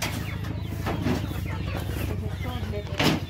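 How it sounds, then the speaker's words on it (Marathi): Chickens from a backyard poultry flock cluck steadily as they are released to feed, a dense mix of near and farther hen calls running throughout, with a few louder bursts. "आता मी ह्या कोंबड्यांना आता सोडते खायला"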